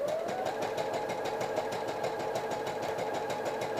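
A sewing machine runs steadily, stitching fabric for a crop top, with a fast even mechanical rattle that stays constant and close throughout.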